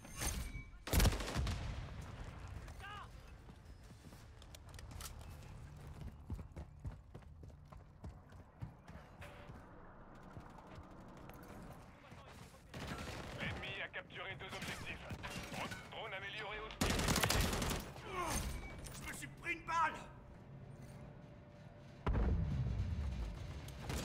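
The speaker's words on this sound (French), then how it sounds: "J'essuie des tirs" Gunfire in Call of Duty Modern Warfare 3 multiplayer comes in loud scattered bursts and single shots across the scene, with lulls between them and a voice talking intermittently.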